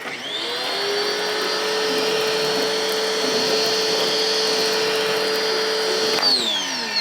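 A loud, steady water spray rinses a truck part, a constant hissing rush with a motor-like whine that starts abruptly, holds for about six seconds and then cuts off.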